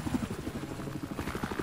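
A helicopter in the video game Battlefield 4 gives a steady, low rotor drone held at a fairly faint level throughout, with no other sounds standing out.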